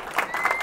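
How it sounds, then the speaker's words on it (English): Brief burst of audience applause at a Startup Grind Baltimore event, a dense wash of many hands clapping in a room, moderately loud and continuous for under a second. "Can you guys give him a round of applause for me"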